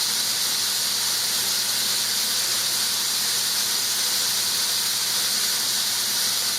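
A new pressure cooker making vegetable sausage soup gives off a loud, continuous high squeal and steady hiss of escaping steam, close by with no break.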